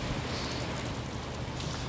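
Steady rain falling outdoors at the Rock of Gibraltar, a continuous soft hiss of drops on surfaces at moderate level with no voices.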